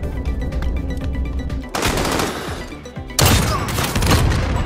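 Bursts of automatic rifle fire in a first-person shooter match, with two dense broadband volleys following quieter ongoing battle noise, loud and close with no talk over them.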